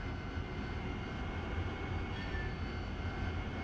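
Steady whine and rumble of an AV-8B Harrier's jet engine in DCS World, a continuous broadband drone held at an even, moderate level with no talk over it.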